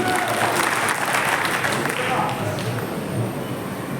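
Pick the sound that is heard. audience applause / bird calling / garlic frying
audience applause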